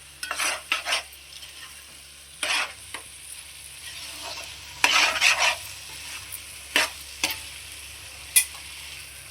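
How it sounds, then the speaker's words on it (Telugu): A dried fish and yam curry is stirred in a pan: a soft background sizzle is broken by irregular bursts of a spoon scraping and clinking against the metal, with no one speaking. "బాగా కలుపుకోవాలి."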